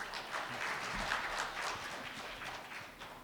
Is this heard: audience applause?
yes